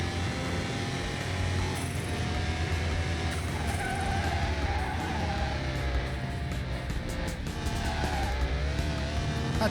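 A Toyota Prius with a swapped 2JZ engine slides sideways, tires squealing continuously over a loud, steady engine roar, close and without talk throughout.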